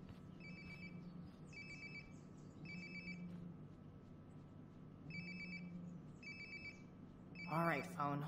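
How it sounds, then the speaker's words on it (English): A phone rings in the video game Life is Strange: Before the Storm, repeated trilling bursts at regular intervals over low background ambience, with a brief voice near the end. "All right, phone. ¿Dónde estás?"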